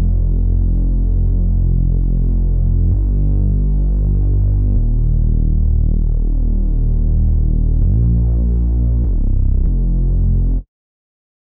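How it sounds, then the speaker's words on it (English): A clean, subby Reese bass synth patch built in the Vital wavetable synthesizer, pitched down an octave: a loud, thick, droning bass with a slow, throbbing phasing movement. It shifts through several sustained notes, then cuts off abruptly. "a clean subby Reese bass"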